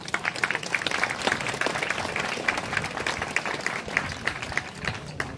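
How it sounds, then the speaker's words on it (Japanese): Audience applause at a gathering of Japanese vintage Meguro motorcycle enthusiasts, steady dense clapping from a crowd sustained throughout, fairly close and even in loudness with no one speaking over it. "拍手お願いします。"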